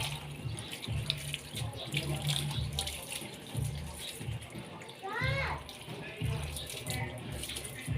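A garden hose sprays water against house walls during very hot weather: a steady rushing hiss of running water, with a voice briefly audible in the background.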